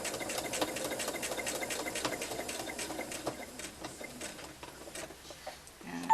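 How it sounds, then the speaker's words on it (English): Sewing machine stitching strips of a fabric face mask, a rapid steady ticking run of stitches, moderately close, with the pace loosening near the end before a final clunk. "Do a couple back stitches and stitch down to the end"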